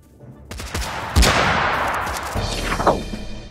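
Sniper gunshots in Totally Accurate Battle Simulator, a Wild West battle: a few sharp, loud close cracks with booming tails, amid ongoing battle noise.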